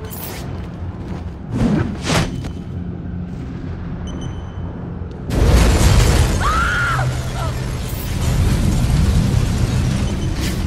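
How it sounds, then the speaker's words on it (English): An oil truck explodes on a bridge in the video game Batman Arkham Origins, a loud booming blast with crackling debris that sustains into a roaring, rumbling aftermath over a bed of game noise. "Source of explosion was an oil truck on the bridge surface."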